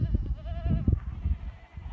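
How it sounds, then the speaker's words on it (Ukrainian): Goats waiting in a pen bleat briefly at close range, impatient to go out to graze, over low rustling background noise. "кози сердяться, хочуть іти пастися"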